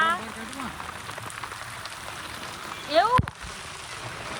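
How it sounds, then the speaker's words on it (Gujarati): Steady rain falls throughout at a temple site during an Ashadi Bij gathering, a soft continuous patter with a voice speaking briefly over it near the end. "કેવો વરસાદ આવે છે જો"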